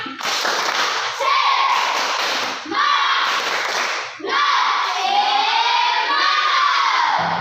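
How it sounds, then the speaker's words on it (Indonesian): Children in a classroom doing a spirit clap, a loud rhythmic clapping pattern mixed with shouting and chanting voices, in three bursts with short pauses between them. "Tepuk semangat."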